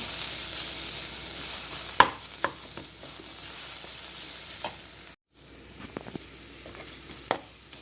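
Masala spices frying and being stirred in a pan for stuffed bitter gourds, a steady close sizzle broken by occasional sharp scrapes of the spoon against the pan.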